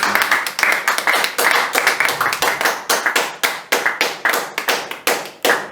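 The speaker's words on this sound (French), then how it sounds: "Est-ce que tu peux acclamer pour la gloire du Seigneur?" A church congregation claps together in a steady, fast rhythm of sharp hand claps, loud and close, sustained throughout with no talking.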